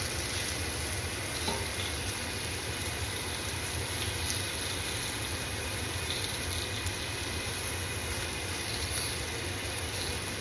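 Morel mushrooms fry in a crowded pan, a steady, dense sizzle and crackle running evenly throughout, close and continuous with no talking.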